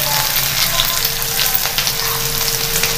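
Onions fry in a pan with a steady, close, continuous sizzling crackle that stays even for a few seconds, with no voices over it.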